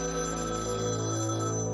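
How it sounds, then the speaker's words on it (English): A telephone rings insistently in a scene from the 1987 film Angel Heart, a steady bell tone that carries right through the short stretch with no talking over it. "Angel's phone rings off the hook"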